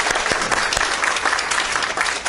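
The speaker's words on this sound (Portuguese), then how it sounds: "Então, uma salva de palmas para o Raul." An audience in a lecture hall at a spine specialist's talk on preventing back problems claps steadily, a dense, even round of applause from many hands that carries on throughout without talk.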